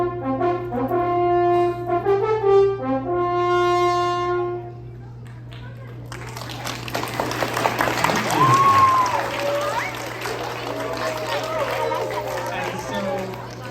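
A natural French horn with no valves sounds a hunting signal call: loud, clear brass tones stepping through a few harmonic notes. Rumbling crowd noise and chatter from a large audience then take over.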